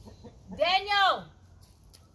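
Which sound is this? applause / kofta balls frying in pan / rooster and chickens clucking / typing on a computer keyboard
rooster and chickens clucking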